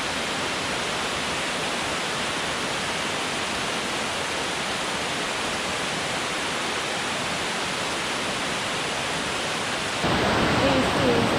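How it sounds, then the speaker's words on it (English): A spectacular waterfall in Ocho Rios, Jamaica, roaring as a steady, loud broadband rush with no let-up, with the sound shifting slightly near the end. "This is the most spectacular waterfall we have seen today."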